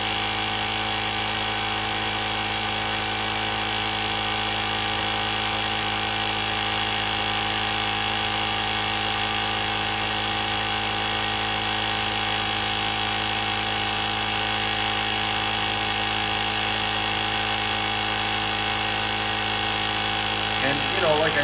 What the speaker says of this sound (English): this is a nice compressor